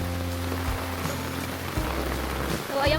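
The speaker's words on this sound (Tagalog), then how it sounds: "Lakas ng ulan ngayon." Heavy rain pours steadily on surfaces in a rural provincial setting during a coconut harvest, a dense, loud hiss of drops throughout, with a low hum underneath.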